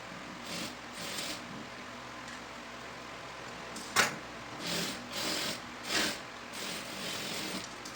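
A sewing machine stitches the back and front pieces of a short top together, running in short repeated bursts with brief pauses between them, at moderate loudness with no talking.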